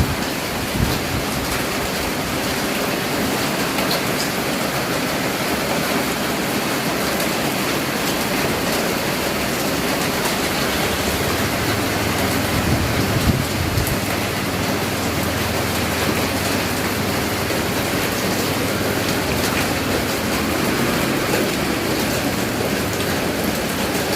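Steady rain pours outside at the Wat Luak market, a dense, even hiss that stays loud and unbroken throughout, with a low rumble underneath and no voices.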